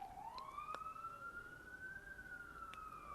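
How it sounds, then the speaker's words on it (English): A wailing emergency vehicle siren sounds outdoors, a steady rising and falling tone that holds through the whole stretch, moderately distant and continuous, with no talking over it. "Sorry about the sirens."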